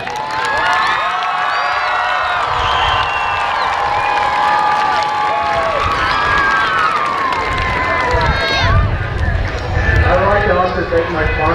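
A monster truck freestyle crowd cheers and roars steadily through the arena, a dense wash of voices under a loud announcer talking over it the whole time.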